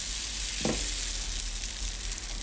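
Sourdough waffle batter sizzles steadily in a hot cast iron waffle iron, a continuous hiss with one brief soft clink partway through.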